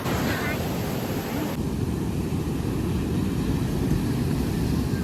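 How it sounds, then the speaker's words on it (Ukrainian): Rough sea surf at Sanzhiika beach beside rocks roars continuously with heavy wind buffeting the microphone, a loud, steady rumble of breaking waves. "нікому не раджу в такі хвилі"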